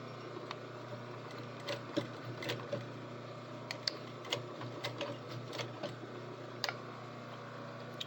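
A sewing machine stitches a waistband, a steady low motor hum with quick ticking needle clicks running throughout, fairly faint and with no talking.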